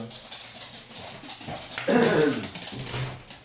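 A dog whimpers and whines indoors, short plaintive yelps rising in the middle, fairly close and moderately loud against a quiet room with a faint background hum.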